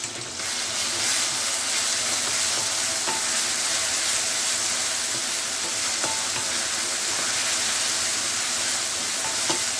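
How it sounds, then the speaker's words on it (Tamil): Ginger garlic paste frying in a pan with softened onions for Tamil intestine (kudal) gravy, giving a loud, continuous hissing sizzle with a few faint stirring clicks throughout. "இஞ்சி பூண்டு பேஸ்ட்டு சேர்த்துருங்க இஞ்சி பூண்டு பேஸ்ட்டு பச்சை வாசனை நல்லா போட்டோம்"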